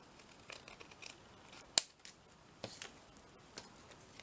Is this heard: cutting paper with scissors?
yes